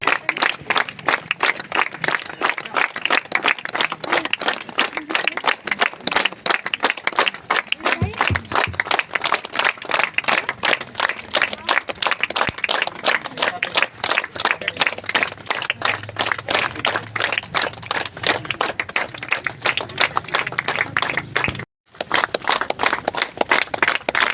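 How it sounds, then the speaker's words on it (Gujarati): An audience at a talk claps steadily and rhythmically for over twenty seconds, in a fast even beat, with a brief break near the end before the clapping resumes. "એક બાર ફરી જોરદાર તાળી"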